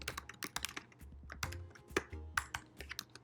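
Fingers type on a computer keyboard, a quick uneven patter of close, crisp key clicks with no talking.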